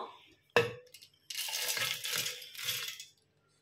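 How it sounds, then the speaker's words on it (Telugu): A sharp clatter, then a burst of Oreo biscuits tumbling and rattling into a mixer jar for a couple of seconds before it falls quiet. "ఓరియో బిస్కెట్స్ వేస్తున్నా అండి మిక్సీలో"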